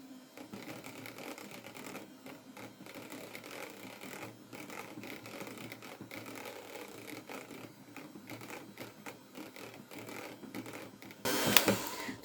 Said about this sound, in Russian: Перемешиваю венчиком на небольших оборотах.